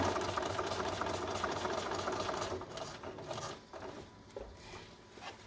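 A sewing machine runs steadily, stitching both overlapped edges and then a flat seam on a concealed-carry belly band. The motor hum is continuous and close, easing slightly in the last seconds.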